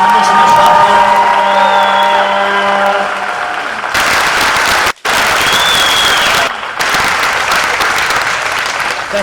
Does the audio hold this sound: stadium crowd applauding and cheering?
yes